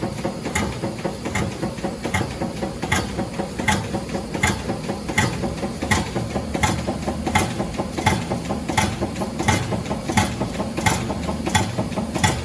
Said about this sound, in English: What you hear there is that's just the dancing material back and forth.